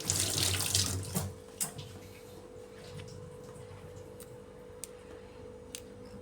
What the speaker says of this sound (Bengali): এখন ধনে পাতাগুলোকে আমি খুব ভালো করে ধুয়ে নিচ্ছি।